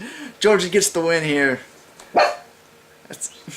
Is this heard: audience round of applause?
no